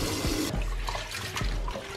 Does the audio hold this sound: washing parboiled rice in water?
yes